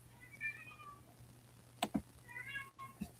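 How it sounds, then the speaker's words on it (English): A cat meows several times somewhere down a hallway indoors, faint, drawn-out calls separated by quiet pauses, with a couple of sharp knocks in between. "He's like meowing at shadows down the hallway"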